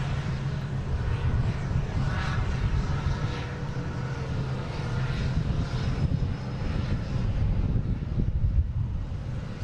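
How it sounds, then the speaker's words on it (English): An airliner takes off at Boston Logan airport, its jet engines holding a loud, continuous roar and rumble that stays strong from start to finish. "next taking off should be a Delta A321neo heading to San Francisco"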